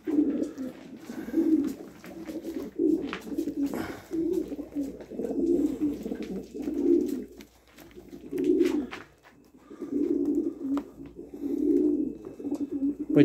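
Soft, low cooing from Janssen pigeons repeats in steady rounded phrases with brief pauses, close by and fairly quiet, with no talking.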